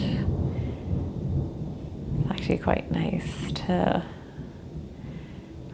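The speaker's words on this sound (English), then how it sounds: "You can hear the thunderstorm in the background." A thunderstorm rumbles low and steady in the background with rain hissing beneath it, while a calm voice speaks softly over the top for a few seconds.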